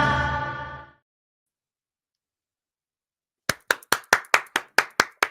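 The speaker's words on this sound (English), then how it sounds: "This round of applause is for you." A single person's round of claps, about nine sharp, evenly spaced hand claps close by, coming after a short stretch of speech and a pause of silence.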